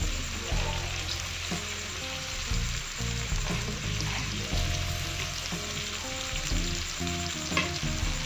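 Celery, tomato, cabbage and bean sprouts are stir-fried for instant noodles with chicken, a loud continuous sizzle with repeated scraping stirs of the utensil throughout.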